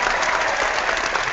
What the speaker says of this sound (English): No, that was a legit clap.